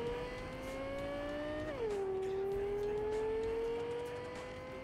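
A car in Cyberpunk 2077 accelerates at full throttle, its engine note climbing steadily, dropping sharply at a gear change, then rising again in a loud, continuous whine.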